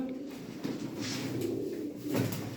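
Close, low cooing from gökbenek pigeons comes in soft repeated throaty rolls, continuous and near over faint background noise.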